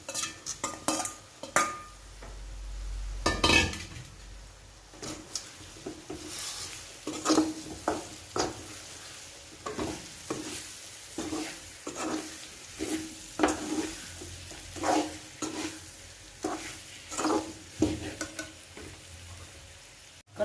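Breadfruit roasting in spice paste sizzles in a pan with curry leaves, as a spatula scrapes and stirs in repeated strokes, close with no talk.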